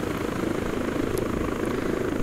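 Helicopter in the ARMA 3 video game, a steady, loud rotor and engine drone holding continuously throughout with no pauses.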